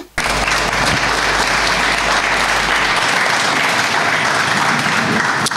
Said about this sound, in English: I hope you could hear the applause after you'd stopped.